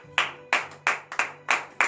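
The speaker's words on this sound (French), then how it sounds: "Donnez de vivre acclamation à l'Éternel." A congregation at morning prayer claps in acclamation. Six sharp, loud, unison claps fall in a steady rhythm about a third of a second apart, each ringing briefly in the room.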